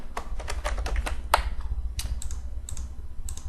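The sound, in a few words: typing a password on a computer keyboard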